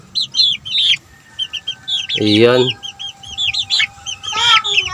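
Several chickens cluck and chirp in short repeated bursts, with a louder, deeper squawk in the middle and a brief spoken word near the end.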